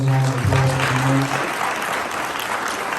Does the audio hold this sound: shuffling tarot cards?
no